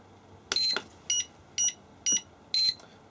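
Five short, high electronic beeps from an IMAX B6AC battery charger saving a setting, in a quick, even sequence, clear and close, with quiet background between them.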